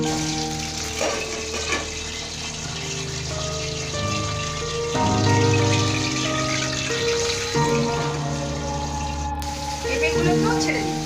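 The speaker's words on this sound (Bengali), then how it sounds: "এবারে আমি আলুগুলোকে ছেড়ে দিচ্ছি।" Potatoes drop into hot oil over a low gas flame for a papaya curry, and a dense, continuous sizzle swells loud and stays steady close at hand.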